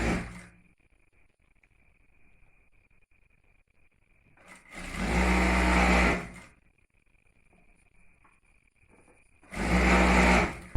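A sewing machine stitches a kurti seam in two loud, close bursts of a second or so each, separated by several seconds of near silence.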